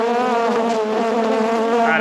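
Bees swarm close around a beekeeper's face and nose at a hive, their steady, dense buzzing filling the whole moment at close range without pause.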